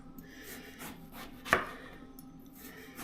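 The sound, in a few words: knife slicing eggplant by hand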